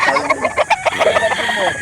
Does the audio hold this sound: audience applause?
no